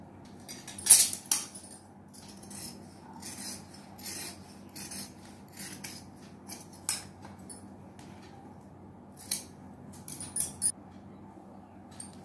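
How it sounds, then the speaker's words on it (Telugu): Scissors cutting fabric to shape a curved sleeve for a kids' frock: quiet, irregular rasping snips and rubbing, some sharper clicks, close by and without speech. "ఇప్పుడు హ్యాండ్ కట్ చేసేసుకుందాం."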